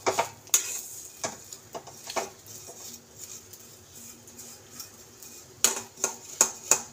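Peanuts fry in a pan while being stirred with a utensil, giving a soft sizzle under scattered metallic scrapes and clinks, close and fairly quiet, with no talking.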